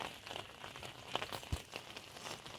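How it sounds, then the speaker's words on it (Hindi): Rain falls on a rooftop garden where mustard is being planted, a faint and soft patter that runs all through with a few sharper drops and knocks. "बरसात भी हो रहा है, काफ़ी अच्छा होगा"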